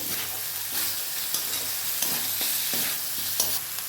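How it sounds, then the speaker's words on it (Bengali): Spice paste with turmeric and a splash of water stir-fried for paneer curry, giving a steady close sizzle with repeated spatula scrapes and stirring knocks throughout. "মশলাটাকে ভালো করে কষিয়ে নেব।"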